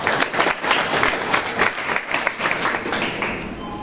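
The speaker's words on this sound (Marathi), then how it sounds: "जोरदार टाळ्या अशा महिला." A crowd at a devotional kirtan gathering claps in a short, loud burst of applause with pulsing rhythm that fades slightly toward the end.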